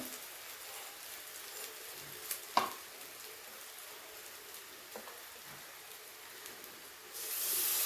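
Ginger garlic paste sizzles in oil with browned fried onions for Bengali fish-bone chorchori, a soft steady crackle with a few sharp knocks, then a louder hiss near the end.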